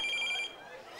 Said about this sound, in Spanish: Espera, que me está sonando el móvil, que no sé dónde está.